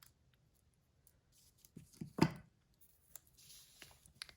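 Planner stickers are trimmed with scissors: a short, quiet cluster of snips near the middle, close by, amid an otherwise near-silent room.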